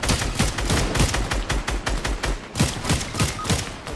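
Rapid video-game gunfire, dense automatic bursts and overlapping shots, loud and close throughout with no break.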